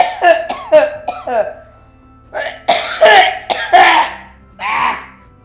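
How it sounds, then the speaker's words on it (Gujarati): A person coughing in a domestic scene, a quick burst of four harsh coughs, a pause, then three more and a final throat-clearing cough, close and loud. "આ જો આ ખાંસી બહુ થઈ ગઈ છે"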